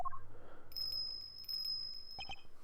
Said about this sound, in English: What's that tinkling sound? Sir? There's that bell.